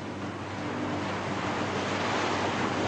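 Steady ocean surf and gusting wind roar continuously and fairly loud, with rumbling wave wash filling the whole stretch and no voices.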